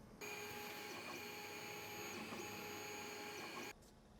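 A Wizmaker Wand Mini laser engraver runs a test job, producing a steady, faint mechanical whine with high tonal hum that holds for a few seconds, then stops abruptly.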